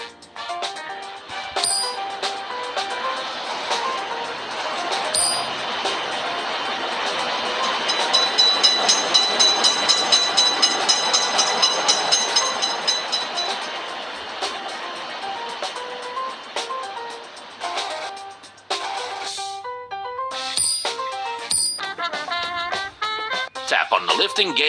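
A cartoon train from a railroad crossing game rolls past a crossing, its rumble and rattle building to a loud pass and then easing, with chimes and bells mixed in and a narrating voice talking over it.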